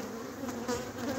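A steady, close buzz of many honeybees just out of winter droning around a hive whose queen is not laying, quiet and continuous.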